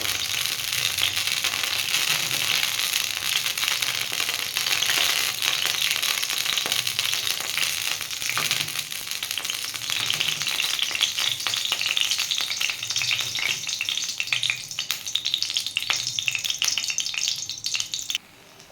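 Batter poured into a hot, lightly oiled wok for rolled gola roti sizzles loudly and steadily throughout with crackling pops, then stops abruptly at the end.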